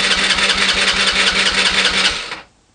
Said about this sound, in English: What we're going to do now is we're going to crank the engine.